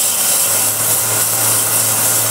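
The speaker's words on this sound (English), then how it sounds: "Just sand a little by little." Steady abrasive rubbing of 400 grit sandpaper against a coffee or tea container, continuous and fairly loud with no pauses over its short length, carrying a faint low hum beneath the scratchy texture.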